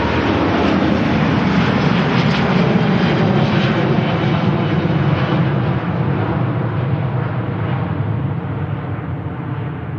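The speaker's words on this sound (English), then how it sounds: "Cathay Pacific Airbus A380 heading back to Hong Kong." A Cathay Pacific Airbus A380 departs Manchester Airport for Hong Kong, a loud, continuous jet roar that holds steady and then slowly fades, with no voices.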